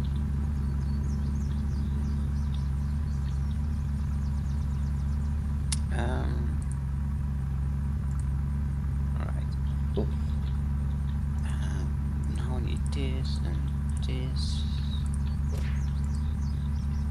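Car engine in the video game Unturned, a low steady rumbling drone running the whole time with scattered clicks and small chirping sounds layered on top.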